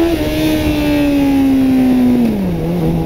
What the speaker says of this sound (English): so I revved it up